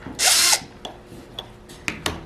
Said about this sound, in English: We're going to take all these Allens out.